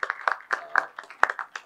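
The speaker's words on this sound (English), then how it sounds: "A big round of applause for him." An audience at a chamber of commerce event claps, a short run of sharp separate handclaps, fairly close and not very dense.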